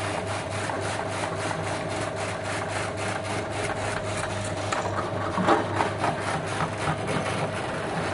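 Potato slicer machine with stick-cutting blades (MKS-PRJ400) running while potatoes are pushed through and cut into 3 mm sticks: a continuous, steady mechanical whirring and rasping with a regular rapid pulse, loud and close, with a brief heavier chopping surge midway.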